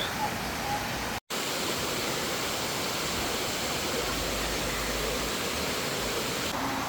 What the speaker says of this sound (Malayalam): വടാട്ടുപാറയുടെ ഈ വെള്ളച്ചാട്ടം